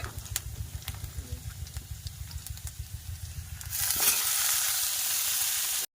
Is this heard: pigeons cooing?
no